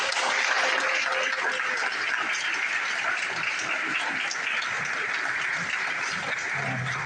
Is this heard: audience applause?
yes